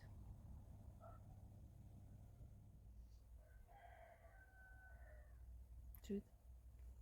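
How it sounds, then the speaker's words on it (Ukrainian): A distant rooster crows once over a steady low hum in a village, faint and far off, with a brief closer knock near the end. "Там півень десь кричить."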